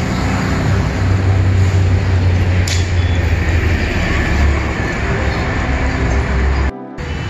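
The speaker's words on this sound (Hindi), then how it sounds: "पुणे मेट्रो।" Pune Metro train passing close by, a loud steady rumble of wheels and motor that holds through the whole stretch before cutting off abruptly near the end.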